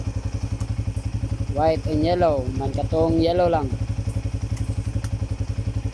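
A Yamaha Sniper 150 motorcycle engine idles close by with a fast, even thumping pulse. Someone talks over it partway through.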